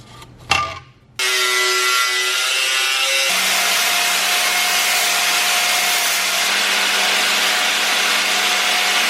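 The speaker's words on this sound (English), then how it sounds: "I'm gonna cut a piece of aluminum and build a bracket" A saw cuts steadily through a scrap piece of aluminum for a bracket. A short clatter comes first, then a loud, continuous grinding whine holds for the rest of the clip. The pitch drops slightly partway through.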